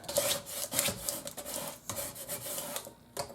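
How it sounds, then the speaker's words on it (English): A scraper rubs firmly back and forth over vinyl transfer tape, a close, rhythmic rasping of repeated strokes with brief pauses between them. "take your scraper, give it a good rub, flip it over"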